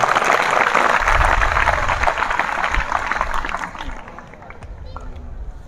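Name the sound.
audience applause for the scientists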